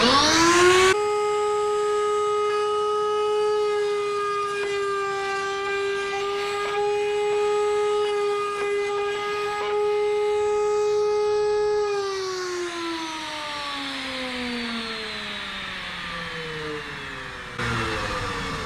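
Router on a router table trimming a torn-out wood edge against the fence, a loud steady high-pitched motor whine with strong harmonics that holds, then drops and winds down near the end.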